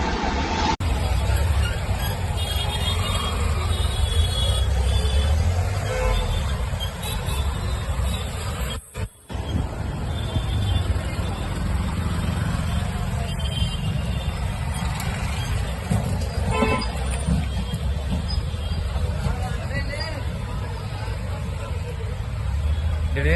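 Steady road traffic hums beside a petrol station in Bangalore, with engines droning and vehicles passing in a continuous urban wash, faint voices in the background.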